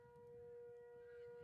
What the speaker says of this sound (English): Is that a tornado siren?